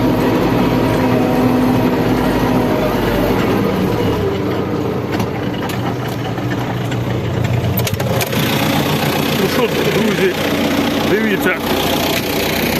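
A tractor engine runs steadily while ploughing a field, a continuous mid-pitched drone with a heavy low rumble, close and loud throughout, with someone talking over it.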